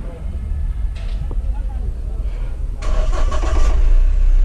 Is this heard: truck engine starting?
yes